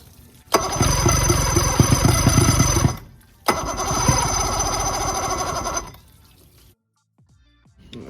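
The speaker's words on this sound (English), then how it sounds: "New power pack is in. I'm gonna fire it up right now." A boat engine fitted with a new power pack cranks and fires twice, each loud run lasting a couple of seconds before cutting out, with a quieter sputter afterward and no talking.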